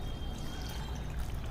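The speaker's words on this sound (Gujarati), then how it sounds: "આપણે પલાળી દીધા છે, એમાં આપણે હવે પાણી ઉમેરીશું" Water poured over soaked soybeans in a container, a short continuous close pour with a low gurgling splash throughout.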